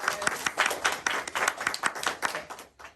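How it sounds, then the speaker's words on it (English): Church congregation at a Father's Day service claps in a short burst of applause, sharp individual claps clearly audible, close and moderately loud, fading out near the end. "Everyone give them a round of applause."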